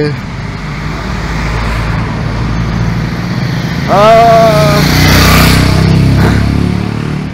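Motorcycles pass along a mountain road beside the Chenab river on a ride toward Ladakh, engines rumbling steadily with one bike revving up and swelling nearer midway before fading, over constant road noise.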